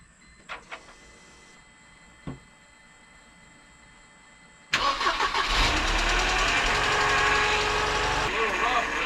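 A few faint clicks and knocks, then the engine of a 1998 Mercedes C230 with a MAP sensor fault cranks and catches, settling into a loud, uneven idle that runs steadily with a slightly rough pulse.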